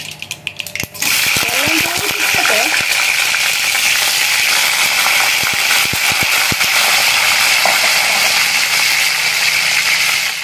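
Stuffed brinjal (aubergine) frying in hot oil in a pan for a North Karnataka vaingan dish, a loud steady sizzle from about one second on, with scattered clicks and pan scrapes and brief speech-like tones early.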